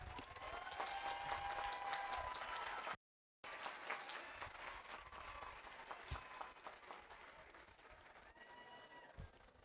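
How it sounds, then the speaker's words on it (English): A commencement ceremony crowd applauds graduates with sustained, dense clapping at a distance, interrupted by a brief dropout, then continuing steadily with scattered voices underneath. "One more round of applause for our graduates today."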